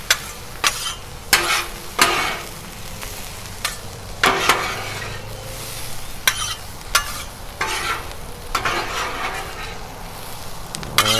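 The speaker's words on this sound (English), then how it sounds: "I'm gonna flip the bacon and the sausage and get it going" Bacon and sausage frying on a 36-inch Blackstone griddle, a constant sizzle broken by sharp repeated scrapes and clacks of a spatula flipping the meat, close and fairly loud.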